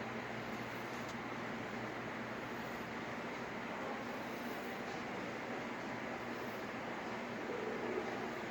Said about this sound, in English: here's this miniature train that is actually in working condition.